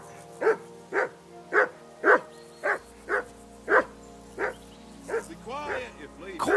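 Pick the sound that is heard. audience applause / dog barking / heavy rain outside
dog barking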